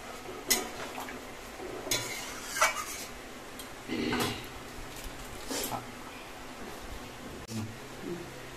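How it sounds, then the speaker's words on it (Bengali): A spoon stirs prawn and yam curry in a pot, scraping and clinking against the metal in irregular strokes over a low background sizzle, close and moderately loud. "এখন জাস্ট একটু ভালো করে নাড়িয়ে চাড়িয়ে নিচ্ছে।"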